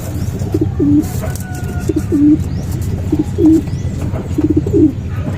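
Racing pigeons cooing inside a loft, repeated low rolling coos in short clusters about once a second, close and clear over a busy background of rustling and faint chirps.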